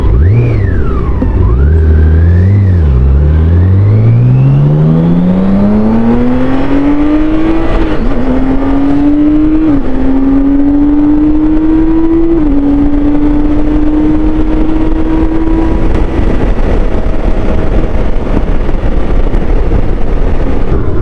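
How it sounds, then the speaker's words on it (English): Inline six-cylinder 1649cc engine of a BMW K1600 GTL motorcycle pulls smoothly through the gears while riding, a loud steady drone rising in pitch with brief dips at each shift, then settling into an even cruise with wind noise. "it's an inline 6-cylinder engine, 1649cc, makes 160 bhp of power and 180 Nm of torque"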